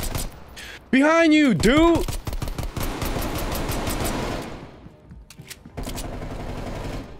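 Rapid gunfire bursts in Call of Duty Cold War prop hunt, dense clattering shots among game effects and a whistling sweep, with players talking over it.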